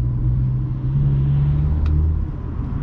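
VW Golf GTI Mk5 engine during a gear shift, a loud close low rumble with a steady drone that dips briefly and then carries on, with no voices.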